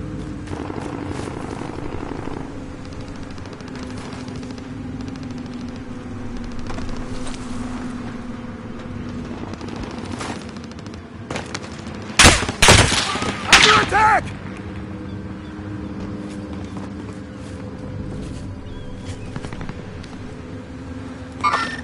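In a military shooter video game, a sharp burst of loud gunfire cracks out midway over a constant helicopter-like rumble, with scattered distant shots and voices heard elsewhere.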